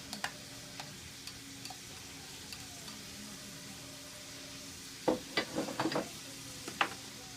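Half an onion drops into a hot pan and crackles with faint steady sizzling, then a burst of louder spattering pops and scraping near the end, with no talking.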